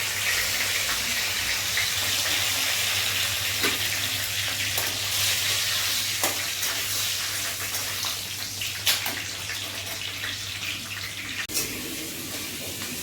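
Whole garam masala spices, bay leaf and chili frying in hot oil for a yogurt mutton curry: a constant bright sizzle with scattered pops and crackles and occasional stirring clicks, close and continuous, without talk.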